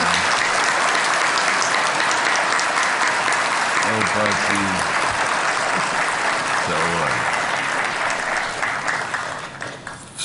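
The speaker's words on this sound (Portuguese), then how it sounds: "Também eu peço uma salva de palmas" Sustained applause fills a Senate chamber during a tribute ceremony, loud and continuous, with a voice briefly heard speaking over the clapping before it tapers slightly near the end.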